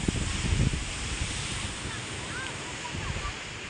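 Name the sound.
ocean waves crashing on the shore at Dhanushkodi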